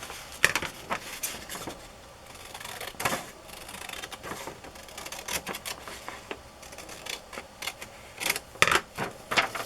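Ledger paper being cut on a paper trimmer, heard as a series of sharp, crisp clicks and slicing snaps spread irregularly over several seconds, fairly close and moderately quiet, with no talking.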